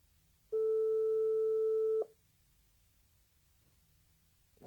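A single long electronic telephone tone sounds for about a second and a half, clear and steady over faint background hiss, as an outgoing call goes unanswered.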